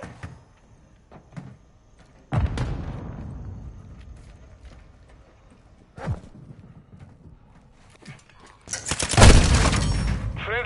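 Combat in Call of Duty Modern Warfare 2: after quiet scattered pops, a heavy grenade blast booms and rumbles away. Another sharp report follows, then a loud, hissing crackle of gunfire and explosions near the end.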